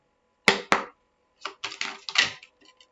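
Tarot cards handled during a card reading: two sharp snaps of cards close up, then a quick run of softer shuffling and riffling bursts, with a few faint flicks at the end.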